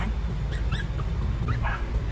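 A three-week-old Pomeranian mix puppy at a pet shop gives soft, high whimpers and little yips, several brief cries close by over a quiet background.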